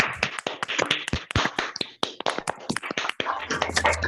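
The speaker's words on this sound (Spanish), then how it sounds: "vamos a prender los micrófonos para aplausos" Scattered applause from a small lecture audience, a burst of sharp, uneven claps from a few people repeated steadily for several seconds at moderate volume, with no voices.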